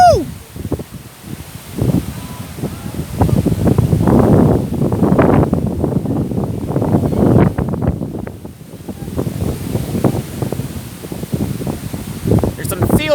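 Strong outdoor wind buffets the microphone in loud, gusting rushes near a shoreline with sailboats offshore, with people talking over it.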